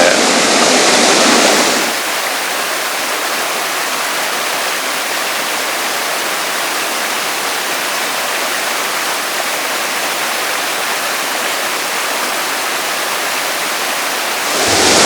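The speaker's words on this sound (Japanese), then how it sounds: "ちょっと川の音がうるさすぎて聞こえにくいかもしれないんですが" A loud mountain river rushes steadily beside an abandoned hillside village site with old stone walls, a dense, constant roar of flowing water that fills the whole stretch without breaks.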